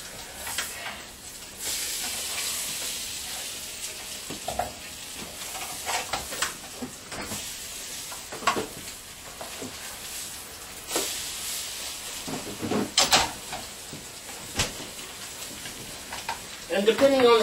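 French toast fries in a buttered pan on a stovetop, a soft steady sizzle and hiss running underneath a person talking, with occasional clatters and a louder burst near the end.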